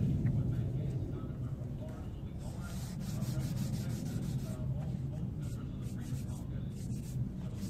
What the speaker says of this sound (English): I just hit this real quick, as you saw, with the 400 grit